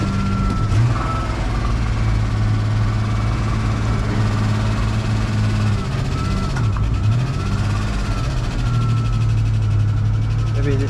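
A 1951 Oliver HG42 crawler tractor idling loudly up close, a steady heavy low rumble that holds constant throughout with a faint wavering tone above it.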